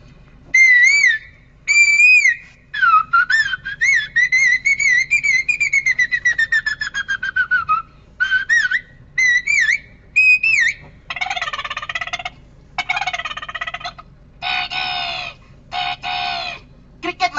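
At a Kerala school arts festival mimicry performance, a voice imitates familiar bird calls in a series of whistled chirps, warbles and clucking cries, each phrase separated by short pauses, loud and close.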